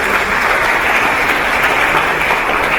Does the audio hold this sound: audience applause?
yes